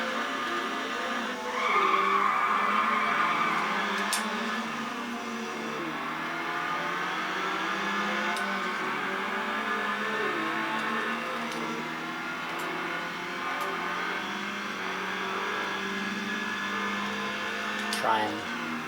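A Volkswagen Golf in the Need for Speed Underground video game skids and revs through a drag race, a steady engine drone with tyre squeal near the start, while someone talks over it throughout.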